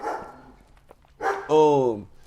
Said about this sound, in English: Let me go ahead and sound the live dog alert real quick.